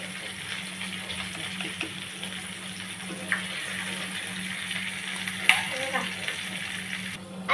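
Prawns frying in a pan on their second side: a steady, close sizzle with faint pops and crackles under a low background hum, continuous and even throughout.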